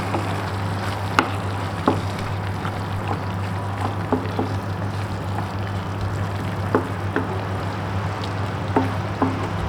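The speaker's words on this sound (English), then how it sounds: "So fry the masala till the oil oozes out" Prawns and onion frying in Goan recheado masala, a steady close sizzle with scattered crackles and soft clinks running evenly throughout under a low constant hum.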